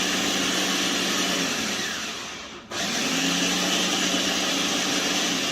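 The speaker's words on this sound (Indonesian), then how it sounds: "Nanti proses pemblenderan jagung." Blender whirring as it purees corn for a food-processing demonstration, a loud steady motor drone that briefly cuts out and then starts up again, with no talking.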